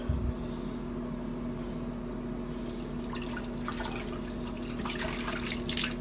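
Liquid poured down a bathroom drain, a soft continuous trickle and splash over a steady low hum, faint and close.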